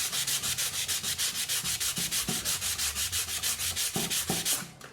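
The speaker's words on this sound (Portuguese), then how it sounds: "vem com a lixa" Sandpaper rubs rapidly back and forth over a part of an Electrolux LTE12 washing machine, giving a steady run of rasping strokes, close and fairly loud, with no voices.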